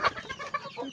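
Chickens cluck close by in a short run of soft, quick clucks with small pauses between them, and no talk is heard.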